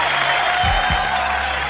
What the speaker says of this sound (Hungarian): mindjárt nyom neked egy tapsot.